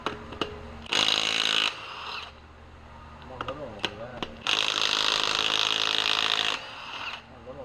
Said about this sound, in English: kudos to Milwaukee with this damn little gun for a 3/8 drive